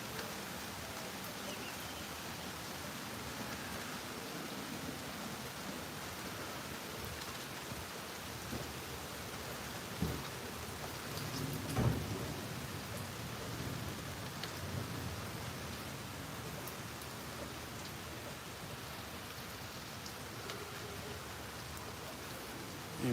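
Steady rain pours down during an afternoon thunderstorm in Tampa, Florida, a faint, even hiss with a couple of soft distant rumbles and thuds around the middle.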